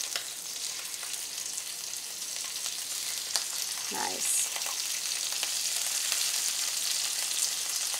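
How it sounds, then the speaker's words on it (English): Shrimp sizzles steadily in a hot pan, a constant crackling hiss with a faint clink partway through and no talking. "that's what I want to hear, that sizzle"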